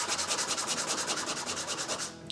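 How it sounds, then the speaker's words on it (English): A sanding block rubs back and forth on a model house part in a fast, even rhythm of about a dozen close, bright scraping strokes, alone without talk, ending in a brief click. "Now I'm going to take and kind of custom fit it using my sanding block"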